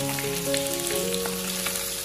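Pieces of grass carp pan-frying in hot oil for braised fish, a continuous crackling sizzle like light rain, steady and close, with soft background music tones running beneath and no talking.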